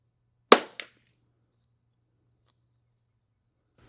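A single sharp crack from a CZ rimfire rifle firing Eley Club Xtra ammunition at a range, followed by a quick echo, then near silence with a faint tick.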